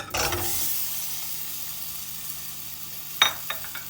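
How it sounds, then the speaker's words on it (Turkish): Potatoes, onions and carrots drop into a hot pot to sauté, opening with a loud burst of sizzle that settles into a quieter steady hiss, broken near the end by a couple of sharp utensil clicks. "Şimdi içine bütün sebzeleri atacağım. Patatesimizi, soğanımızı, havucumuzu. Bunlar kavrulacak."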